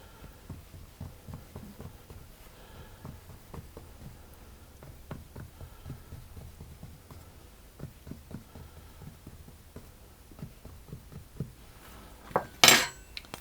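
A fork pricks rhubarb tart pastry in a tin with a long run of soft, regular taps, one roughly every half second, ending with a louder clatter near the end.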